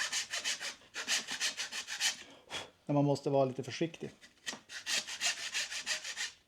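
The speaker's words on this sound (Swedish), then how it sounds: "Det är inte så dumt att såga med bågfil när man sågar trä faktiskt." A hacksaw cuts through wood in quick, rhythmic rasping strokes, close and bright, pausing midway while someone speaks in Swedish before the sawing resumes.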